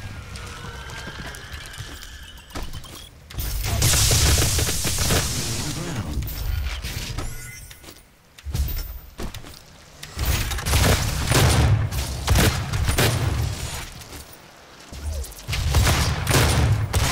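Rapid bursts of video game gunfire crackle through a loud shootout, with sustained volleys and booming hits stacking up almost continuously across the scene.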